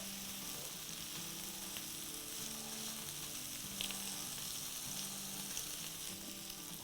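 Fish pieces frying in oil on a flat tawa pan for a fish masala, giving a soft, even sizzle that runs unbroken throughout with no talking.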